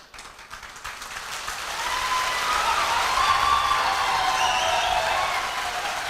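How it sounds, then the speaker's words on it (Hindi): Audience applause at a talk, starting thin and swelling within two seconds into a full, steady roar of clapping that holds to the end. "एक बार जोरदार तालियां आपके सम्मान में, आपके लिए, आपके सम्मान में।"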